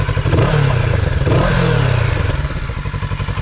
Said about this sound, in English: you've got that traditional Kawasaki parallel twin sound. Let's have a listen to it.